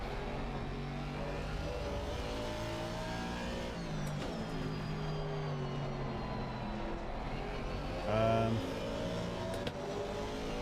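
A race car engine in a racing video game at Mount Panorama, Bathurst, drones and revs steadily through gear changes for several seconds, with a brief louder burst near the end and no talking.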